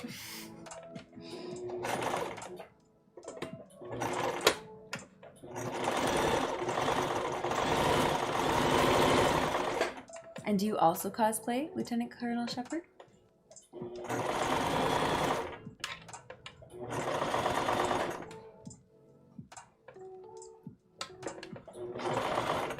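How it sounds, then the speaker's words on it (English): A sewing machine whirs in several bursts of rapid stitching on a test dress, pausing between runs while a person talks over and between them. "at least the sewing machine's not betraying me"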